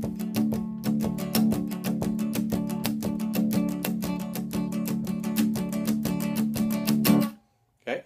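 A guitar strums a fast jig rhythm with light palm muting on the lower strings for a percussive feel, dense and continuous for about seven seconds before stopping abruptly, with no speech.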